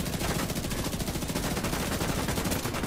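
Shotgun fire in a video game rings out as a steady, dense barrage of loud blasts, continuous and close throughout.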